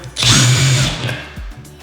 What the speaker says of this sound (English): So when I drill like this, to facilitate the installation of the anchors, I always use a pre-drill.